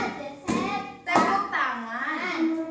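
A young child claps hands twice in quick succession, sharp close slaps followed by a voice speaking.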